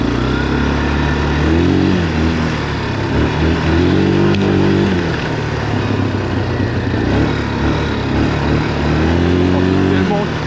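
A Yamaha 350 quad drifting along a forest trail, its engine rising and falling in repeated revving swells, loud and close throughout.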